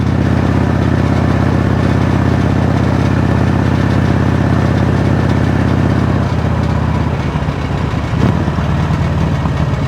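A Harley-Davidson Road King motorcycle engine running during a test ride, a loud steady low rumble that eases slightly in its last few seconds, with no talk over it.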